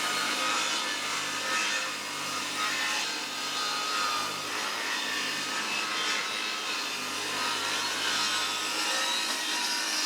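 Steady continuous table saw cut through oak with a Bosch 24-tooth blade, a loud sustained whine and rasp running unbroken for the whole stretch with no talk.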